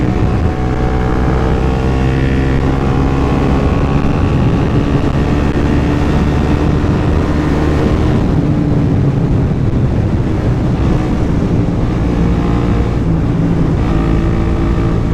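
A Suzuki GSX 125 motorcycle with an aftermarket exhaust drones steadily and loudly while riding, its engine note rising and falling with throttle changes, with no talking.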